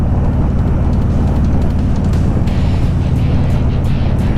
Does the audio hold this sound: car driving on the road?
yes